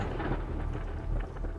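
Thunder rolls as a deep, continuous rumble, fairly loud and sustained, with a hint of rain-like hiss over it and no speech.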